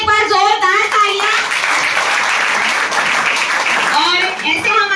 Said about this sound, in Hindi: इन सभी के लिए एक बार जोरदार तालियां.